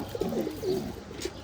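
Pigeons coo softly and repeatedly in a loft holding newly hatched chicks, with low throaty calls close by and no talking.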